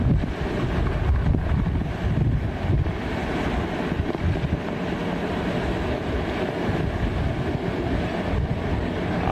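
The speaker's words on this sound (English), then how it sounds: "it's gusting this strong where we are" Hurricane Maria winds gust in San Juan, Puerto Rico, a continuous loud roar that buffets the microphone, swelling and easing a little but never letting up over the whole stretch.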